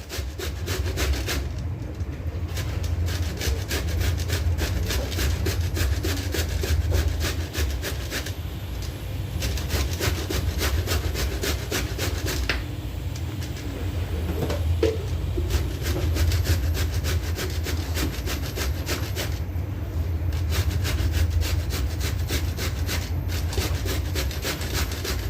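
Cauliflower rubbed against a grater for paratha filling, a continuous close scraping rasp in quick repeated strokes for the whole stretch, with brief pauses and no talking.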